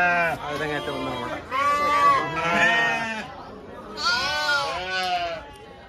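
Sheep and goats bleat repeatedly and loudly at a livestock market, several calls overlapping in close succession with faint crowd chatter around them.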